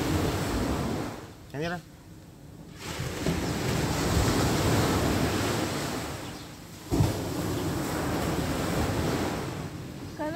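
Ocean surf washing onto a white sand beach at Cagwait, a steady broad roar with wind buffeting the microphone, while people talk briefly near the start.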